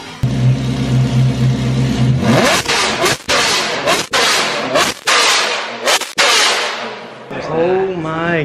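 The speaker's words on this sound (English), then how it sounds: "I think this might be the loudest V8 Ferrari in the world." A straight-piped Ferrari F430 V8 idles with a low, throbbing burble, then bursts into a series of very loud, raw revs that climb and cut off sharply, close by.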